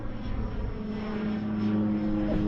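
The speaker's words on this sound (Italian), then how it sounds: "qua sopra passano aerei, come questo piccolo aereo" A small propeller airplane passes overhead at Oliver Hill on an Australian island, its steady engine drone and buzzing prop hum filling the scene and growing slightly louder as it flies close above.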